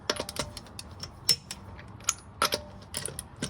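Torque wrench tightening the lug nuts on a 2014 Toyota Corolla wheel, a series of sharp metallic ratchet clicks in short irregular bursts, close and crisp with no talking.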